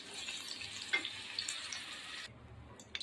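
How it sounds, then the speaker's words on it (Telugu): Ivy gourd fries in a pan on low flame, making a soft, even hiss with a couple of light stirring clicks, quiet and close, before the sizzle briefly drops away near the end. "ఇప్పుడు ఇవి సిమ్లోనే ఎర్రగా వేపుకోవాలి."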